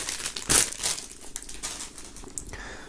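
Plastic shrink-wrap around a scarf being unwrapped, with sharp close crinkling bursts early on, then lighter scattered rustles and crackles.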